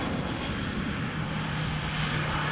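Airliner engine roar at Amsterdam Schiphol Airport during showery weather, a steady loud drone with a low hum, heard alone without talk.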